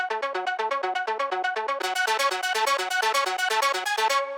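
A bright pluck synth from a progressive house track repeats short, rapid notes in a steady arpeggiated pattern. A brighter layer joins about halfway through, loud and alone.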